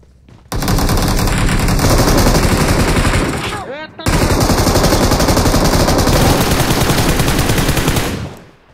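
Sustained automatic gunfire in a shooter game, two long loud rapid bursts separated by a brief pause, harsh and close.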